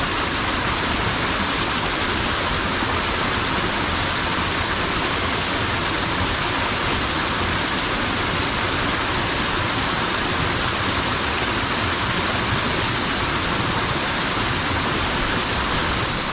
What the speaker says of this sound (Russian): Вот он, Альпийский ручей.